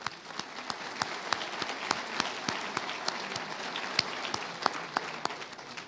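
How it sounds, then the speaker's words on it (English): Dense audience applause at a security forum fills the room steadily, a close wash of many hands clapping with sharp individual claps popping out, sustained and fairly loud throughout. "Can we give them a round of applause, please?"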